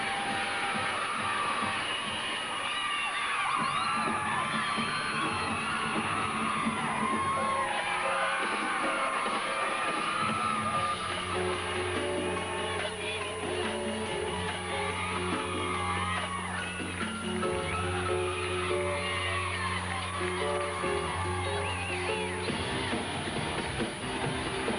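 A home crowd at an NCAA gymnastics meet, the 2002 Super Six Challenge, keeps up loud, continuous cheering, with whoops and yells rising out of a dense wall of noise that lasts the whole stretch.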